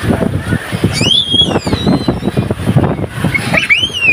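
Steady rushing wind of a storm with heavy rain buffets the microphone in a continuous low roar, with occasional high whistling tones drifting above it.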